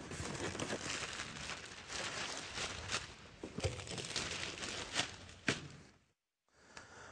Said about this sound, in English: Now we're going to move all the foam and the plastic from around the printer.